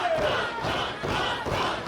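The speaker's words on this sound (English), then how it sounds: "the crowd has come alive" Wrestling crowd at an independent wrestling show cheering and shouting, a loud continuous roar with swells of voices.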